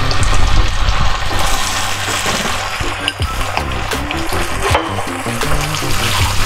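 Chili garlic sauce hits a hot pan with pork belly and sizzles steadily, a loud, continuous hiss with bubbling and light scraping throughout.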